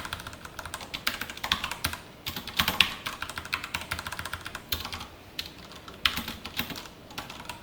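Code is typed on a computer keyboard during a JavaScript and React lesson, with fast, uneven clusters of crisp keystrokes close by and no voice over them.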